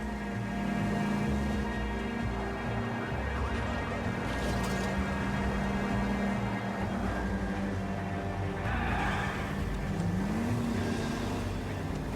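A car engine in L.A. Noire drones steadily and rises in pitch as the vehicle speeds up, with a siren-like tone sweeping near the end.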